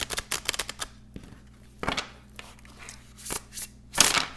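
A tarot card deck being shuffled, with repeated soft riffling bursts of cards that come and go in short clusters, close and fairly quiet, with no one talking.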